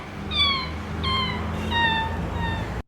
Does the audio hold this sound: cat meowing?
yes